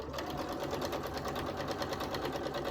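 A domestic sewing machine quilts a quilt square at a steady, fast, continuous stitching pace, close and even throughout with no talk.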